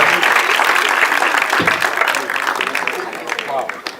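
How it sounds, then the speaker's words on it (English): Steady, loud applause from a crowd at a 2Pac film screening in Philly, dense clapping that carries on throughout and tapers slightly toward the end, with voices mixed in. "Everybody give him a round of applause"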